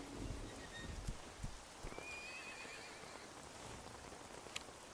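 Horse neighing in the hidden-object game Mountain Crime Requital, a faint, wavering whinny rising over soft rain-like background ambience with scattered light clip-clop taps.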